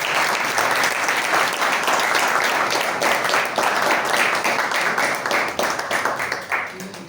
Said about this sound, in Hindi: मैं चाहूंगा कि एक बार फिर से जोरदार तालियों के साथ उनको ताल लगाया जाए।